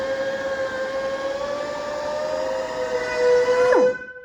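Shop compressed-air regulator whining while running hot during car paint cutting and polishing, a steady tonal whine with overtones under a hiss that ends in a quick downward sweep.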